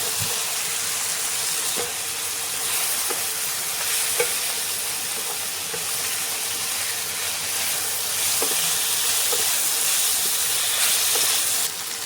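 Tomato and chunks of boiled potato fry in a pan, a continuous close sizzle and hiss with occasional soft stirring clicks and scrapes, with no talking.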